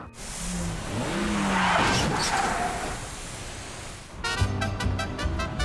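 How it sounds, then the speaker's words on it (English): A badly damaged car crashes into a taxi at a road junction, heard through traffic noise with engine roar and tire squeal, followed by a sharp rhythmic clatter near the end, with no talking. "what happens when an already badly damaged car crashes into a taxi at a junction?"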